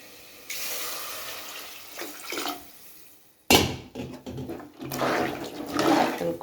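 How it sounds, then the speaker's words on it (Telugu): Water pours into a pot of frying lentils and tamarind, a close splashing rush in two bursts separated by a sharp clatter, loud and without speech. "ఇప్పుడైతే వాటర్ వేసుకుంటాను."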